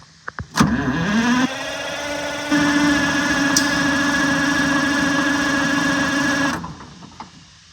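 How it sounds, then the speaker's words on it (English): An old bus engine with no compression cranks fast and even for several seconds under the starter, a steady, smooth whirring drone, spinning freely with no rhythmic chugging, then stops. "The way that thing's turning over, there is no compression in this engine."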